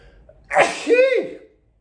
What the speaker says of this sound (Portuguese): Eu vou espirrar.